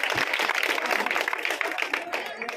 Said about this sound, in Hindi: जोरदार तालियों से आपका स्वागत करें